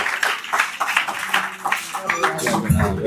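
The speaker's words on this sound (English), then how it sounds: "Please let's welcome her with a round of applause." An audience at a university anniversary event in Ghana applauding to welcome a speaker: dense, continuous clapping from many hands, fairly loud and close, with voices mixed in.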